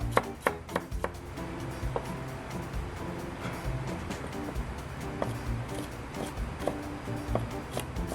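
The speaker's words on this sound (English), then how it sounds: "Garlic chop." Garlic being chopped with a knife on a board, a run of quick sharp taps early on that settles into softer, irregular chopping over a low background, no speech.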